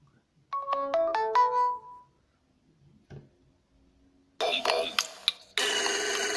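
A Motorola Moto G 2015 (third generation) phone plays a bright, rising ringtone melody of quick chime notes and then stops. A soft tap follows, then two bursts of louder, noisy sound, probably other preview tones.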